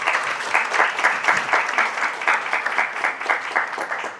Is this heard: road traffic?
no